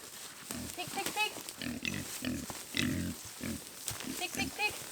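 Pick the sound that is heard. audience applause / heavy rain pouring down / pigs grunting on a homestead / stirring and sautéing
pigs grunting on a homestead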